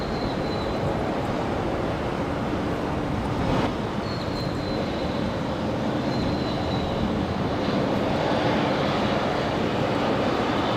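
A Jetstar Airbus A321neo touches down on runway 01 right at Brisbane Airport, its engines a loud, steady broadband roar that keeps going without a break.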